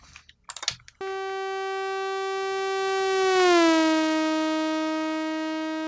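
Synthesized harmonic tone panned as a moving source using a left-right time offset, sounding loud and sustained after a few sharp clicks, then its pitch slides smoothly downward partway through before settling at a lower steady note.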